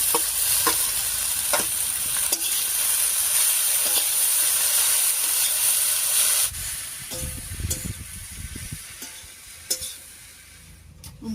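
Sweet potato greens stir-fried with potatoes in a pan make a loud continuous sizzle with scraping stirs, then the frying quietens to a softer crackle with scattered clinks and stirring scrapes.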